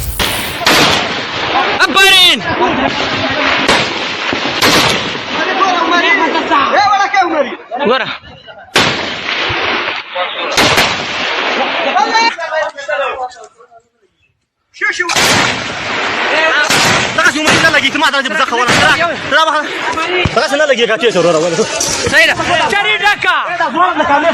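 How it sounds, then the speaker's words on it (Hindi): Gunfire rattles at night on the Afghanistan–Pakistan border: loud bursts of shots and heavy booms come in clusters, with a brief lull near the middle, and voices are heard under the firing. "अंधेरे में अफगानिस्तान और पाकिस्तान के बीच गोलीबारियों की तड़तड़ाहट सुनाई दे रही है"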